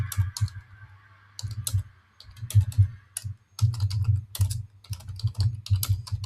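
A computer keyboard is typed on close up in short bursts of crisp keystrokes, with brief pauses between the runs while a title is entered. There is no talking.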